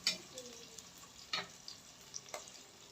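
Garlic and onion frying in a pan while cooking adobong manok at home, a soft steady sizzle with occasional stirring scrapes, close and quiet.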